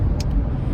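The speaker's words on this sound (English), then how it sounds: "I love when a car knows like that they need to move aside" A passing car moves aside on a road, a loud close rumble of engine and tyres with a brief hiss near the start, alone without talk.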